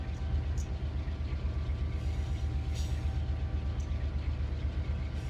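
A heavy freight train in a video game builds power with distributed power locomotives, a steady low diesel rumble and throb, loud and continuous, with faint higher rattles over it.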